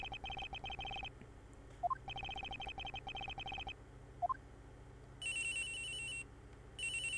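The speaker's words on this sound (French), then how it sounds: "Oh, téléphone." A telephone rings in the video game Ace Attorney Investigations, trilling in repeated bursts with short pauses between, backed by game music and a few bright chime notes, fairly quiet and with no talk.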